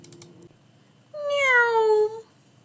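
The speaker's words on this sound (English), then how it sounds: "Meow!" A single drawn-out cat meow from Minecraft, loud and close, rising then falling over about a second, after a few soft clicks.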